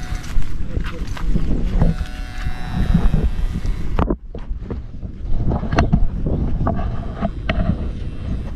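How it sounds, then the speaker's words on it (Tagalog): Steady wind buffeting the microphone outdoors, a rough continuous rumble that briefly drops out midway before resuming. "Sarap ng hangin ah."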